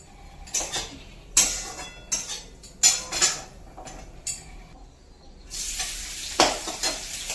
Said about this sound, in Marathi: आता याच्यामध्ये टाकली आहे हिरव्या मिरच्या आणि नंतर शेंगाण्याचा कोटा तेलामध्ये